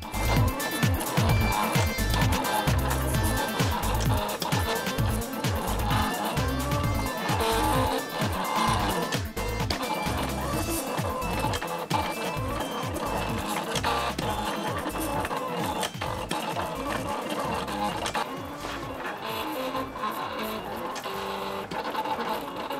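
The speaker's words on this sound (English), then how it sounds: "the plotter starts to cut my coils." A cutting plotter slicing out coils for a handmade reel-to-reel cassette whirs and clatters steadily and up close, its rapid rhythmic carriage pulses continuing for over twenty seconds with no talk.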